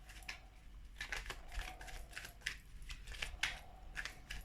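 Tarot cards drawn and handled during a love reading, making soft, irregular papery snaps and rustles close by at low volume, with no one speaking.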